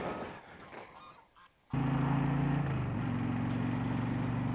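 After a brief quiet stretch, geese blare a sustained low honking from close by, holding steady for a few seconds with a slight shift in pitch.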